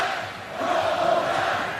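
Crowd at Bryant-Denny Stadium during an Ole Miss versus Alabama college football game, a dense roar of many voices that swells and holds, heard briefly from a distance.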